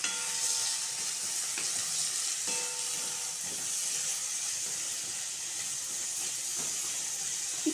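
Salted potatoes and onions fry in a pan while being stirred, a continuous bright sizzle and hiss with occasional scraping knocks from the stirring, close and steady.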